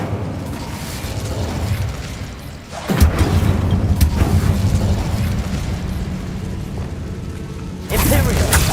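A fire spell cast in the Hogwarts Legacy game sets off a sudden booming burst that rolls into a sustained roaring rumble. A second sharp swell rises near the end, and busy game effects fill the background.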